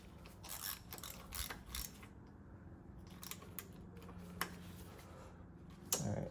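Light mechanical clicks and ratcheting as a 10mm bolt is gently snugged on the power steering pump of an Acura RSX Type S, quiet, intermittent and close, with no talking.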